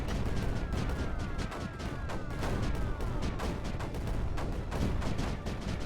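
Mortar bombs firing and exploding in Creeper World 4, dense overlapping thumps and booms in a continuous barrage, with descending whistling tones arcing through.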